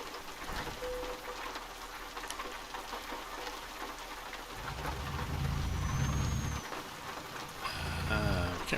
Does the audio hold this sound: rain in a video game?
yes